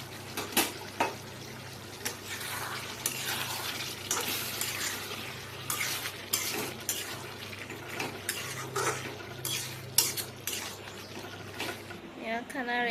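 Vegetables and meat cooking in a pan at home, with steady stirring and scraping, clinks of utensils against the pan and a low sizzle running throughout, with soft background voices at times.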